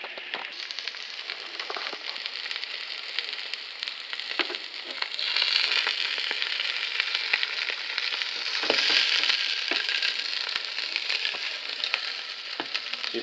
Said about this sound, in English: So I'll brown these up a little bit and get those going